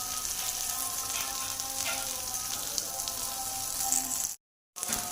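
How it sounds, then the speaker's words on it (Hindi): Chapli kebabs fry in a pan over medium heat, a dense, steady sizzle and crackle of oil filling the space, cut off briefly by a moment of silence near the end. "इसी तरह हमने सारे फ्राई करना है"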